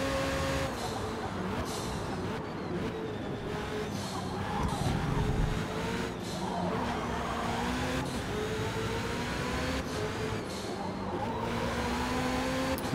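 A Ferrari race car engine in Forza Motorsport wails steadily at high revs while overtaking, its tone shifting up and down with gear changes, close and continuous with no talk.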